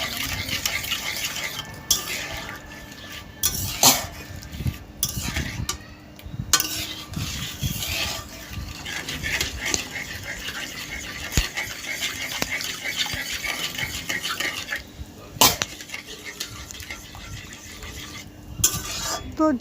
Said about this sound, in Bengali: যতক্ষণ না ফুটছে ঠিক ততক্ষণ অবধি আমি নাড়াচাড়া করে নেব।